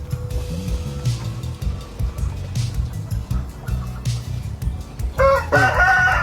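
Chickens cluck and squawk continuously at close range, ending in a loud crow over low rumbling background noise.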